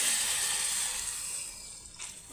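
Water is poured into a cooking pot of beans as a short, close splashing rush that tapers off over about two seconds.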